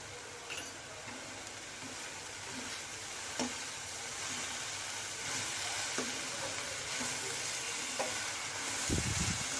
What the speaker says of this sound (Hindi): हमारा मसाला अच्छे से फ्राई हो चुका है।